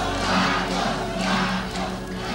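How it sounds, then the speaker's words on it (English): Large crowd of Ferdinand Marcos loyalists cheering at the presidential palace in Manila, a dense continuous roar with rising and falling swells of shouting, no single voices standing out. "Thousands of loyalists cheering the failing dictator"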